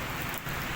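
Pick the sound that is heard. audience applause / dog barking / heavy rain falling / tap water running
heavy rain falling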